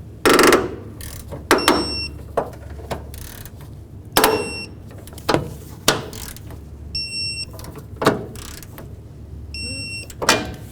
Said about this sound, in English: With them all snug, we can torque them.